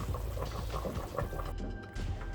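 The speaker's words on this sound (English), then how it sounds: "I'm just going to transfer this into my sieve, okay? And let the excess water drain out" Boiled pork belly drains through a sieve in a kitchen, excess cooking water pouring and trickling out in a steady close wash of liquid for a couple of seconds, with no talk.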